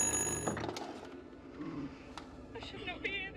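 A faint electronic telephone ring sounds briefly at the start inside the horror video game Little Hope, then fades under dim ambient noise and scattered soft bumps, with voices talking.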